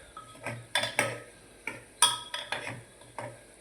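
A spoon stirs spices in a metal cooking pan over low heat, scraping and clinking in short irregular strokes, close and fairly quiet, with no talking.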